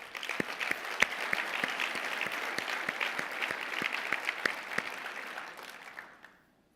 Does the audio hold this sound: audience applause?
yes